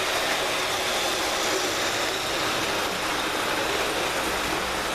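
A model railway train runs steadily around its track, giving a constant whirring, rushing hum with no clear beginning or end and no voices over it.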